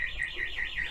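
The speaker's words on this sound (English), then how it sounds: "Someone tripped the alarm." A garage alarm, set off by someone walking downstairs, wails in a steady rising-and-falling electronic tone that repeats several times at moderate level.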